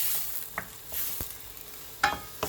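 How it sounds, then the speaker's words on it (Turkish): Onion sautés in melted butter and oil, giving a soft, low sizzle with occasional spoon taps and scrapes against the pan, quiet and close. "Tereyağımızı erittik sıvı yağla beraber. Şimdi bunları biraz soteleyeceğiz arkadaşlar."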